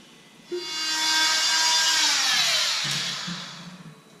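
Saw cutting through wooden trim for a coped joint, a single sustained rasping stroke that rises sharply, holds steady for a couple of seconds, then fades out with a few light scrapes at the end; close and fairly loud, with no speech.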